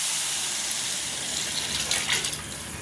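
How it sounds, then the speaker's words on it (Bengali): Water gushes steadily into a pot of rice for plain pulao, a continuous close pouring rush with no talk. "এখন এখানে পানি দিয়ে দেব।"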